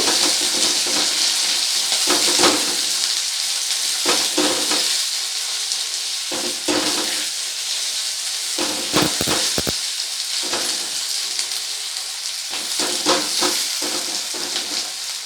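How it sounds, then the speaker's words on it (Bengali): Whole garlic cloves and chillies fry in oil in a pan for a dried fish dish, with a loud, continuous sizzle and bubbling hiss, broken by intermittent crackles and stirring, close up and without talk. "এবার এই তিনটেকে খুব ভালো করে ভেজে নেব।"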